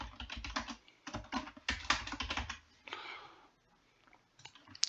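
Close, quick clattering keystrokes on a computer keyboard come in bursts of rapid typing, then taper into a few scattered clicks.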